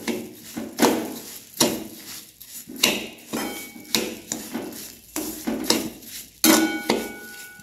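A spoon stirring a khoa and sugar mixture in a pan, with repeated rhythmic scraping and metallic clinks about once per second, close and fairly loud with no voices.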